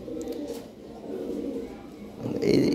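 Lahore siraji pigeons coo in low, rolling phrases against a busy background, a louder burst near the end.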